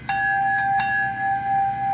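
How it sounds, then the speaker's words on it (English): A bell on an American Flyer toy steam engine rings with two or three close, clear strikes, each leaving a sustained ringing tone. "I'm going to touch on the bell"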